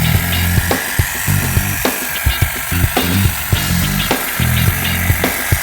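Battery-powered hedge shears with narrow cutting blades trim a barberry shrub, a steady close motor buzz broken by repeated quick snipping bursts in an uneven rhythm, with no talking.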